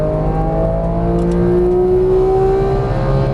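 A Porsche GT3 at full throttle on a Las Vegas racetrack, a steady loud engine drone with rising harmonic tones as it accelerates down the straight, heard from inside the car.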